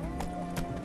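Hooves of Roach, the horse in The Witcher 3 video game, clip-clopping in a quick galloping rhythm, steady and close for a brief moment.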